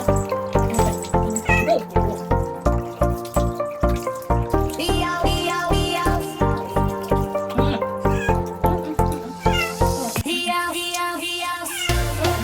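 Loud, repeated meowing from a cat during a lukewarm bath, close and insistent, with splashing and dripping water in between the cries.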